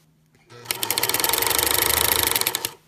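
A sewing machine stitches a steek on a knitted sweater, its needle hammering in a fast, even rhythm for about two seconds, close and loud, starting and stopping cleanly against a quiet room.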